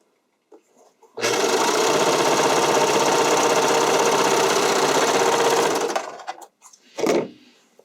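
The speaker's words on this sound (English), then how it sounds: "You just really want to make sure that you're sewing through all 3 layers at all times." A sewing machine stitches through three layers of a figure skating skirt, running in one loud, steady burst of about five seconds, close up, then stopping, followed by a couple of brief handling knocks.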